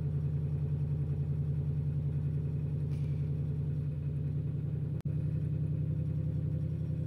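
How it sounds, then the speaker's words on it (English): A Ford Mustang's engine runs steadily nearby in a residential neighborhood, a loud, deep, continuous idle rumble with no revving, briefly broken by a sharp click partway through. "Y'all remember the car, the Mustang I was bitching about earlier? They just turned it on."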